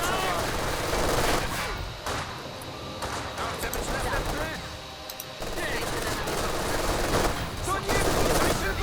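MG42 machine gun fire in the winter battle game Company of Heroes 2, with continuous bursts of gunfire and shots filling the whole stretch, loud and dense.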